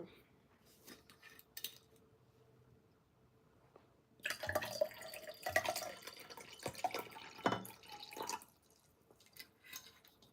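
Water poured into a glass at a table during a meal, a burst of splashing and trickling with clinks of glass and dishes after a quiet start, heard close and without talk.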